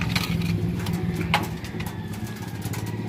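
Racing pigeons coo softly in a loft, low repeated murmuring calls under a steady engine-like rumble, with a brief louder flutter partway through.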